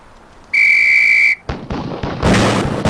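A loud, sustained whistle signal sounds on a police tactical shooting range in the video game Police Quest: SWAT, followed by sharp shotgun blasts and echoing reports.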